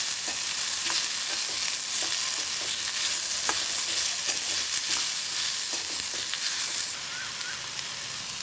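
Carrots and green chilies sauté in hot oil, a steady close sizzle broken by scraping stir strokes, with the frying dropping slightly quieter near the end and no voices.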